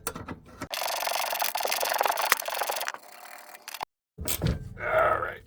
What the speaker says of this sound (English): Now we can just tighten this bolt all the way up until it bottoms out